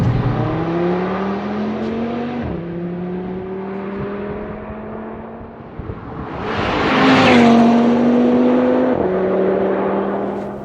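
A 2022 Audi RS 3 accelerates hard, its engine note climbing steadily through the revs with a few quick gear changes, close, loud and alone.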